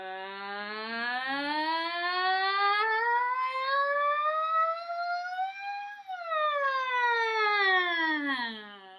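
A voice imitates a siren in a music performance for ages 5-6, gliding slowly upward in one long sustained tone, then swooping down and rising again, with no other sounds.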